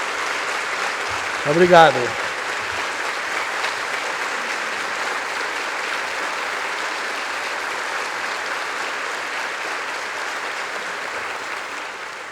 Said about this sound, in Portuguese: As palmas são para a paz.